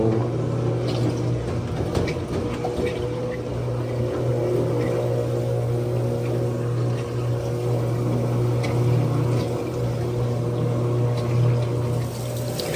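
Dirty water draining from a GE washing machine that won't lock and spins loudly: a steady pump whir with a low hum and rushing water, continuous and close, alone without talk.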